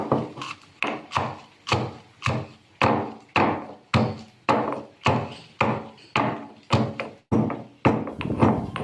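A stone pounds spices into powder in a rustic outdoor kitchen, about fifteen evenly spaced heavy thuds roughly every half second, close and loud with no talking.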